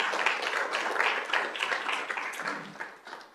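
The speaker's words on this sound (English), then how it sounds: "If we could give him a big round of applause." An audience at a school governing board meeting applauds a student, with steady, dense clapping from many hands in a room that stays fairly even throughout.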